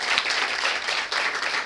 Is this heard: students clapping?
yes